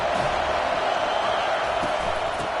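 A stadium crowd roars in a college football video game, Eastern Michigan at FSU, a dense continuous wash of cheering that stays steady and loud throughout.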